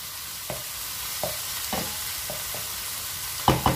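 Chicken pastilla filling frying in a pan over medium heat, a steady close sizzle broken by several distinct scraping stirs, with two louder clatters near the end.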